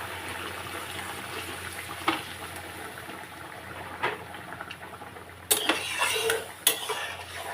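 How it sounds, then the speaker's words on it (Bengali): Hot water bubbles in a pan of spiced potato and eggplant curry, a soft, steady simmer broken by a few sharp clinks of a utensil against the pan. "একটু জল দিয়ে দিয়েছি, গরম জল ফুটছে।"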